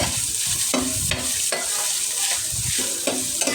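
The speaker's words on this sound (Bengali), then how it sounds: "এই যে ভালো করে নেড়ে চেড়ে একদম একটু ভাজা করে নেব আগে" Spices stirred and fried in a pan with very little oil, a loud continuous sizzle broken by rhythmic scraping strokes of a spoon, close up and with no talking.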